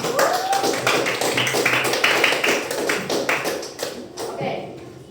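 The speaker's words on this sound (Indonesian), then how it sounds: "Tepuk tangan buat kelompok 1" Classroom pupils clapping for a group in a teaching session, a dense steady patter of many hands under children's voices, tapering off near the end.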